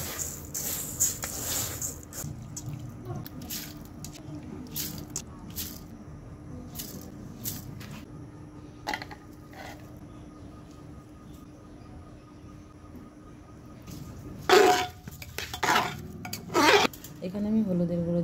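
Rice and whole red lentils being washed in a pot for khichuri, with scattered clinks, swishes and splashes of grain and water against the metal, louder bursts of sloshing toward the end over a low steady background hum.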